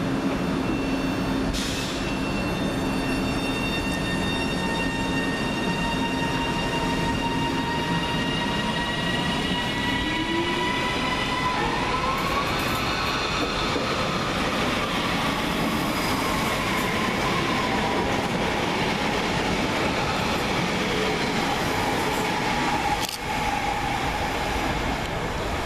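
Northern Rail Class 331 trains pass fast through Deansgate station, Manchester, a continuous loud rumble of wheels on rails with rising and falling tonal whines and clatter, heard close for the whole stretch.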